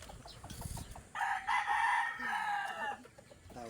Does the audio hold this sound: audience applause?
no